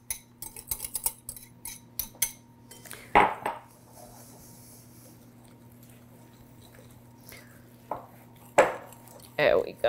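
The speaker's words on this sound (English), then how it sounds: "I am going to add the egg yolks to the dry ingredients. And we're going to get this all nice and mixed." Egg yolks being stirred into dry ingredients for zeppole dough in a metal bowl, giving a run of quick clinking utensil scrapes and taps, then a few louder isolated knocks, with quieter stretches between.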